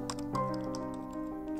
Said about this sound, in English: First, type the text.